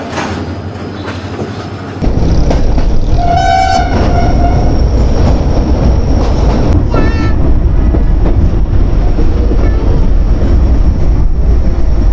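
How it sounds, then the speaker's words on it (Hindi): A train approaches along the railway near a station in Pakistan, a loud rumbling roar with rattling wheels, several horn blasts early on and a brief wheel squeal, building abruptly and staying heavy and close. "सामने से ट्रेन आ रही है"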